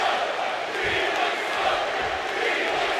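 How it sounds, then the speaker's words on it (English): A large crowd roars and cheers continuously, a dense wall of arena noise with no pauses, in the wrestling video game WWE 2K25 at a Raw show. "Listen to this capacity crowd"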